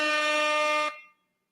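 A single loud, sustained air-horn blast used as a sound effect holds steady for almost a second, then cuts off and fades quickly to silence.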